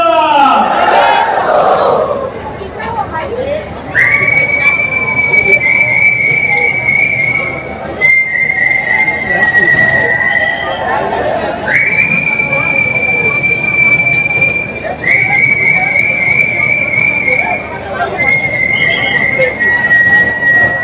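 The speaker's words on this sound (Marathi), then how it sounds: "ती तुतारी जर शिट्टीत वाजली कशी वाजेल" A shrill whistle plays a long, sustained tutari fanfare tune in repeated held phrases, loud and close, with a crowd cheering and shouting at the start, at a Ganesh festival ceremony for Chinchpoklicha Chintamani in Mumbai.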